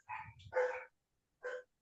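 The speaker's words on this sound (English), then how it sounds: "just set off dogs by doing that" Dogs bark a few times, with three short yelping barks spread across the moment against silence in between, moderately close and fairly clear, with no talking over them.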